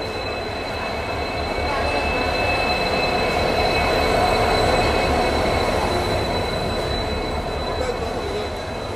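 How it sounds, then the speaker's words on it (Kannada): At platform 3 of Gadag Junction, a train crosses alongside a Dharwad to Solapur passenger train, a loud, steady rumble with squealing wheels and sustained high metallic tones throughout. "ಇದು ಗದಗ ಜಂಕ್ಷನ್ನ ಪ್ಲ್ಯಾಟ್ಫಾರ್ಮ್ ನಂಬರ್ 3ಯಲ್ಲಿ ನಮ್ಮದು ಕ್ರಾಸಿಂಗ್ ಆಗ್ತಿದೆ."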